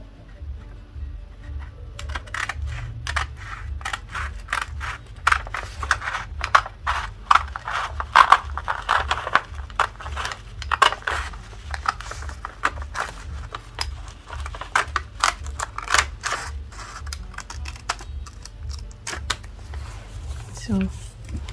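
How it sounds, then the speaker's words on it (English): Scissors snip through fabric to shape a round neckline, giving a run of short, crisp cuts in an uneven rhythm over a steady low background hum, close and moderately loud. "So we'll cut it this way."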